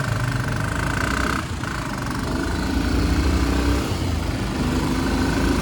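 A TVS Apache RTR 160 4V motorcycle engine idles steadily nearby, a continuous low rumbling throb with a brief whine that cuts off partway through.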